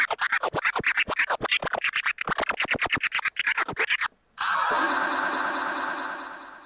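A DJ scratch sample on a Pioneer DDJ controller is run through the trans pad effect: a rapid, evenly chopped stutter of scratch bursts, a brief gap, then a dense sustained smeared wash that slowly fades.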